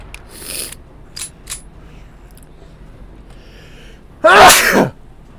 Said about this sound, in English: Not meaning to sneeze your ears off there